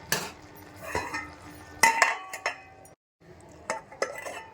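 Salt being stirred into okra chutney in a pan with the stove switched off, giving a few scattered metal spoon clinks and scrapes against the pan with short pauses between them.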